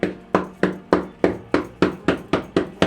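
A hand slapping down on fabric stacked for a princess-cut blouse to imprint tracing marks, about ten sharp thuds in a steady even rhythm, close and clear, no talk.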